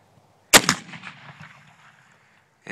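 A black powder muzzle loader rifle fires one loud, sharp shot outdoors, followed by a long rumbling decay that fades over about two seconds, with another sound beginning right at the end.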